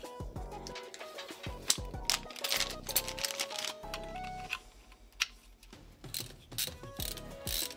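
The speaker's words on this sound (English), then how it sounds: "Time to put the pump block on." Plastic and metal parts of a liquid cooler pump block clicking, ratcheting and scraping as it is fitted onto a budget Temu gaming PC, with irregular close mechanical clatter and tonal squeaks throughout.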